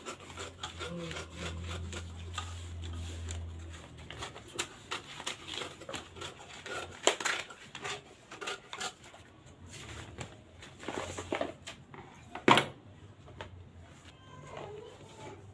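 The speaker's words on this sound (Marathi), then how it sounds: "आता आपण एक्स्ट्राचा जो आपला पेपर आहे तो आपण कट करून घेऊयात" Scissors snip and rub through extra paper around a sleeve and armhole pattern during tailoring, giving a run of soft, irregular cuts and rustles with a few sharper crisp snips near the microphone.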